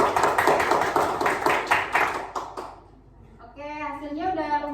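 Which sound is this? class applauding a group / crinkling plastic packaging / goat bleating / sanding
class applauding a group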